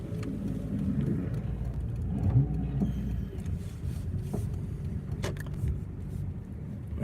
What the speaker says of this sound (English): Okay, car.